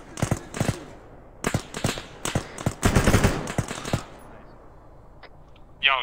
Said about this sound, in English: I'm getting shot outside to the northeast.